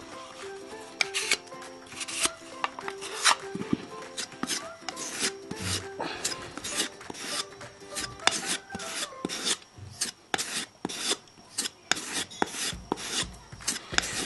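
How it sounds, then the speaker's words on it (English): Two-part Metolux wood filler being mixed with hardener, a steady close scraping and rasping of a spreader working the paste, with rhythmic strokes continuing throughout. "Now mixing it, you've obviously got to be quite thorough doing this."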